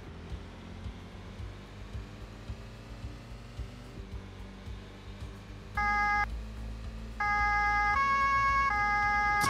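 Police siren in Autobahnpolizei Simulator 3 kicks in partway through, a loud wailing two-tone electronic siren that starts, briefly cuts out, then resumes over low vehicle engine rumble.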